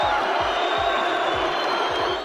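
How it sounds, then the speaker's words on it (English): A crowd at a Brazilian jiu-jitsu match roars and applauds in a sustained, dense wash of cheering that fades slightly at the end. "getting the roar and applause of the crowd"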